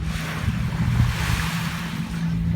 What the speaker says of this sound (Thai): รับลมเสียงทะเลเติมพลังให้ชีวิตนะคะ